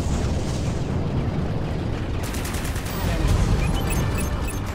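Explosions and weapon fire boom in the space combat game Strike Suit Zero, with dense rumbling blasts and popping bursts layered over one another continuously.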